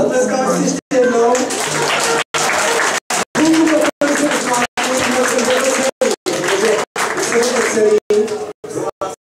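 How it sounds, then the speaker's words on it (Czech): An audience at an outdoor brass band festival bursts into sustained applause, dense clapping filling the space with a few voices mixed in. "Zatleskáme si ještě jednou."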